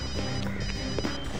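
A mobile phone rings from somewhere nearby inside a supposedly haunted mansion, a steady tonal ringtone running over a constant background hum, with no one speaking.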